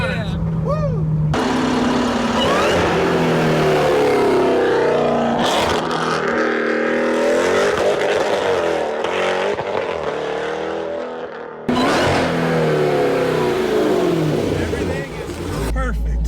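A 1000 HP Jeep Trackhawk accelerating hard, a loud engine roar rising and falling through gear changes with a brief dip near the end, with excited voices talking over it.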